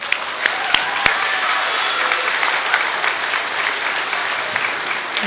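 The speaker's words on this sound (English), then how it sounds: "Can we give one more round of applause?" A crowd at a Veterans Day assembly gives a sustained round of applause, dense and even clapping at a steady loud level with a few sharper claps standing out.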